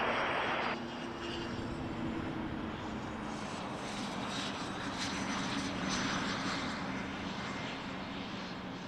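A jet airliner takes off from runway 24 left at Toronto Pearson Airport, a steady, fairly distant engine roar with broadband rushing that swells slightly midway and holds throughout.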